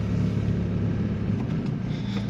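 A Ligier JS 60 microcar accelerates from inside the cabin, a steady low engine drone and rumble rising slightly, close and continuous with no talking.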